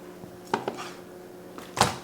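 A sharp cleaver bites into pork belly rind, giving a few sharp chopping knocks against a board, one soft early tap and then three stronger cuts, close and clear with no talking.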